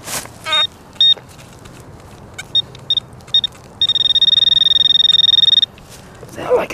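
A metal detecting pinpointer near a dug hole emits short high electronic beeps in scattered bursts, then one sustained steady tone lasting nearly two seconds, clear and close over quiet outdoor background.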